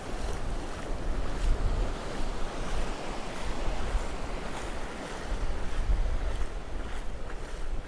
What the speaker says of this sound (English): I've got the wind blasting me backwards, and then I've got the waves hammering me